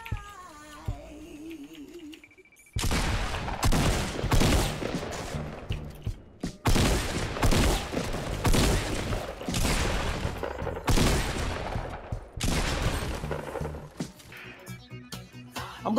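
Sustained gunfire pelts the player's brick build in Fortnite, loud rattling bursts that start abruptly and pause briefly between volleys.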